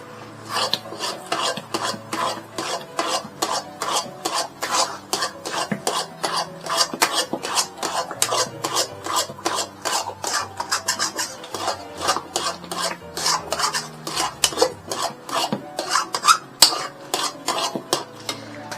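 A spoon scrapes and stirs apple halwa with cashews and almonds in a pan, with steady rhythmic rasping strokes repeating close up throughout and no talk.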